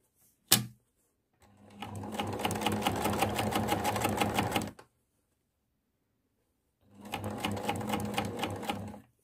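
A sewing machine stitching in an inset zip: a sharp click, then a close, fast, even run of stitching for about three seconds, a pause, and a second shorter run.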